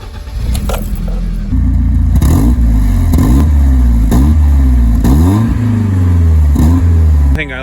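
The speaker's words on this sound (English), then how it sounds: "Thing I like to do is start up the car, let it sit, and just check out the engine" A BMW E30 318is engine cranks and catches, then idles loudly and steadily up close, with a few brief revs rising and falling over the running engine.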